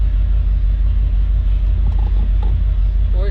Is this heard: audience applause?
no